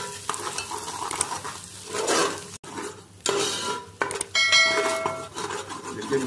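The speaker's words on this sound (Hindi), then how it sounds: "इसको हमको अच्छे से भूनना है।" Dry spices (turmeric, garam masala and chili powder) stir-fried in a pan for Bengali mustard fish curry: steady sizzling with repeated scraping and stirring of a spatula against the pan, close and fairly loud, with no talk.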